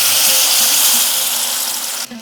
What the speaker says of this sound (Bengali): এরপর এখানে দিয়ে দিচ্ছি জল